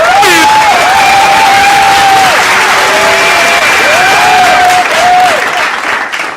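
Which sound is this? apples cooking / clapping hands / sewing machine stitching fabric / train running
clapping hands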